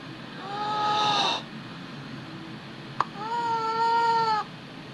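A kitten cries out in two drawn-out, strained meows separated by a short pause and a sharp tap, fairly close and alone over a faint background hiss.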